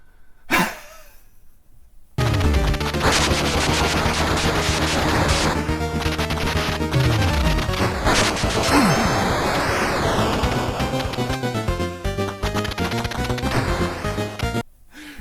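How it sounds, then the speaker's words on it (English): The Raiden Super Bomb goes off in a shoot-'em-up game, a loud dense blast of layered explosions and roaring noise that rumbles on for many seconds after a brief opening burst, with sweeping tones and game music under it. "I always crack up when I see the Raiden Super Bomb go off"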